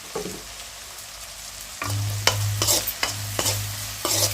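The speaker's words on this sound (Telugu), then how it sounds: "ఉల్లిపాయ ముక్కలు బాగా వేగాల్సిన అవసరం లేదండి, దోరగా వేగితే సరిపోతుంది ఈ ఫ్రైకి" Onion pieces fry in a pan for an Andhra-style spicy chicken fry: a soft sizzle swells into louder, nearby frying with repeated stirring scrapes about every half second, and no voices.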